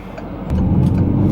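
A Peugeot 208 GTi with a six-speed manual gearbox and front-wheel drive revs up while driving, its engine note swelling into a loud, steady rumble heard from inside the car.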